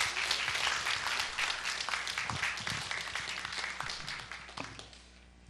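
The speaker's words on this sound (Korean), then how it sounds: "우리 큰 박수로 우리 맞아주시면 감사하겠습니다." A church congregation welcoming a guest pastor with applause, a full round of many hands clapping in a room, steady at first and fading out toward the end.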